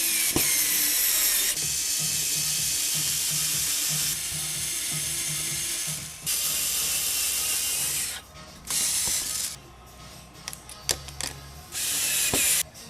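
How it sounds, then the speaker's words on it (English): A hand drill boring a small hole in wood while building a bending jig for a chopping-board guitar, giving a steady, loud grinding whir that runs in long bursts with brief pauses between them. "drill a little hole"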